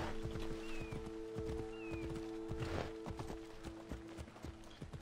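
Horse hooves clip-clopping in the video game Assassin's Creed Odyssey, a steady rhythmic trot of hoofbeats near and clear, with a brief neigh and faint bird calls in the background.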